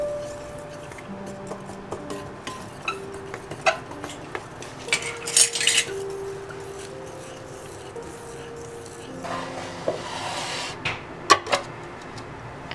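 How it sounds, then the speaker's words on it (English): Salt being mixed into flour in a bowl for scallion pancakes: quiet, irregular clinks and scrapes of a utensil against the bowl, with a few sharper taps and short rustling stirs, close and alone. "Now we're just mixing the salt to the flour and mix them well."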